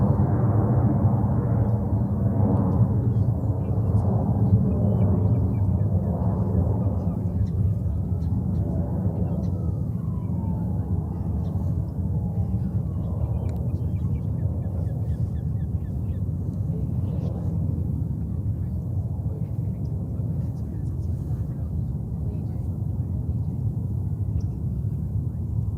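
A Qatar Executive jet arriving at JFK from Doha rumbles steadily and loudly for a long stretch, a broad engine roar with slowly shifting tones.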